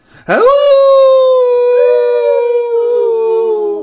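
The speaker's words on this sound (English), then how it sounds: "A howl came from the forest." A single long, sustained wolf-like howl, rising sharply then holding a steady wavering tone before tapering, loud and close, used as a werewolf cry from a forest for an audiobook.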